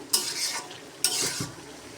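Bottle gourd curry simmering in its own released water is stirred in a pan. Two quick spoon sweeps each bring a burst of wet sizzling close by, and no one speaks.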